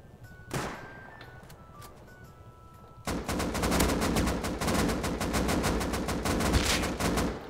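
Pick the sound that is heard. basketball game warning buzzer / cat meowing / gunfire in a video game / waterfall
gunfire in a video game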